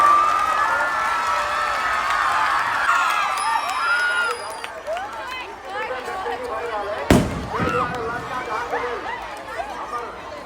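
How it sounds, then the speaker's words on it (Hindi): A large crowd at a Ravan Dahan festival in Janakpur cheers and chatters throughout, with voices heard over the noise and one sharp bang midway that sounds like a firework. "सबको जोर से ताली बजा दी हनुमान जी महाराज के नाम पर"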